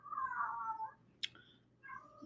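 A house cat gives a drawn-out, wavering meow, then a short sharp squeak and a fainter second call, close and fairly quiet with no talking over it.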